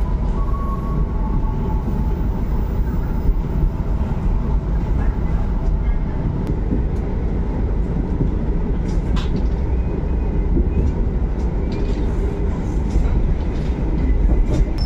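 KA Pangrango economy train pulling out of Karangtengah station in Sukabumi, West Java, a steady loud rumble of wheels and carriages with faint clacks, continuous and close throughout.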